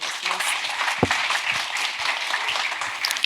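An audience at a lecture on JICA study scholarships in São Paulo applauds to welcome a speaker, a continuous, even patter of many hands with a few louder thumps and faint voices underneath.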